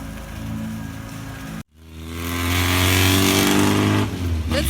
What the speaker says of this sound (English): It's a really noisy car.